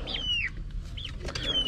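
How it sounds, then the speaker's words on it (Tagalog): Chickens make a few high, short chirping clucks close by, with soft rustling in the background. "Ayan yung mga manok ko na ano,"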